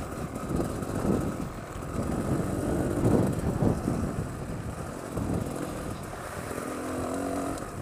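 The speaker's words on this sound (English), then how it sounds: "It's like from nothing revs and it just hoists the front wheel." A Beta Xtrainer trail motorcycle revs hard on a countryside ride, its engine note surging and rising in quick bursts, fairly close but moderately quiet, with no one speaking.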